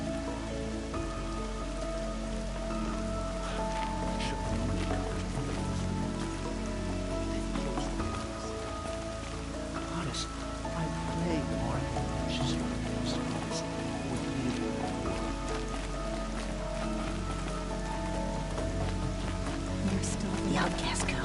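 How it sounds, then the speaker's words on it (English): Rain falls steadily on surfaces in the video game Horizon Zero Dawn, a constant wash of drops under game sounds and occasional talk. "Land's thirsty for rain."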